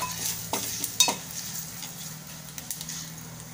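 Turmeric and Malvani masala sautéing in a little oil for tomato saar, a soft close sizzle with a few sharp spoon scrapes and knocks against the pan.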